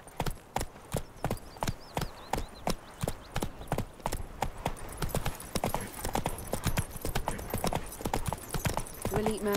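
The horse Roach gallops in The Witcher 3, a fast, steady run of close, loud hoof clip-clops that grows denser and busier toward the end.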